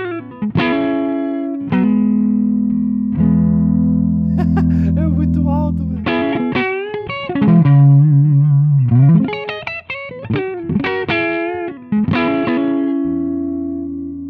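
An electric guitar plays through a small tube amplifier with its gain raised to the middle, giving sustained distorted chords and single-note bends that ring out loud and close, with short pauses between phrases and no talking.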